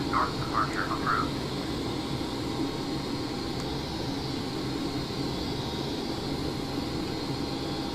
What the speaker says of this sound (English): Cleared for takeoff. Runway 30 right.